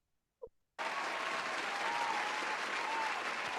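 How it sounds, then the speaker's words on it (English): Loud, sustained applause from a college opening-ceremony audience fills the room after a brief moment of quiet, a dense wash of clapping that holds steady throughout. "Give yourselves a round of applause"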